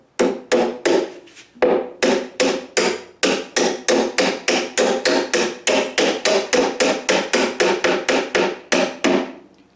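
A hammer taps a wooden rod into a hole in a steam bending box, making a long run of evenly spaced, sharp, close knocks at about three per second with brief pauses.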